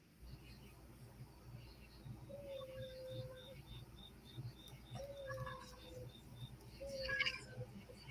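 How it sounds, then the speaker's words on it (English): Faint crickets chirp in a steady, evenly spaced pulsing pattern against a quiet background hum, with a few soft higher calls scattered through. "you can hear the crickets now"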